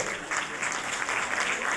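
Sustained audience applause at a grand event marking Dr. Syama Prasad Mookerjee's 125th birth anniversary, dense and continuous clapping from a large crowd, steady and fairly loud for the whole stretch.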